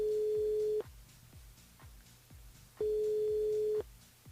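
A radio station switchboard's telephone line gives a steady busy signal: two long flat tones about a second each, with a faint rhythmic ticking pulse running underneath.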